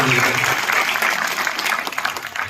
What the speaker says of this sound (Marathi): त्याबद्दल शिक्षकांचा आणि विद्यार्थ्यांच्या टाळ्या वाजवून.